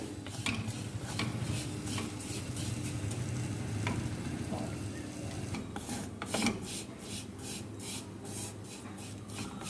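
Vermicelli roasting and being stirred in a pan, a steady close sizzle and frying hiss with repeated scraping and rubbing strokes of a spoon against the metal, continuous throughout.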